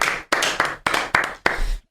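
A small studio group claps together in several short bursts separated by brief gaps, close and fairly loud with no talk.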